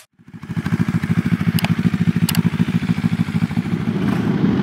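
A QJ Motor SRT 700 trail motorcycle runs close by, its engine starting up and settling into a steady, pulsing throb with a couple of brief mechanical clicks, growing slightly fuller toward the end.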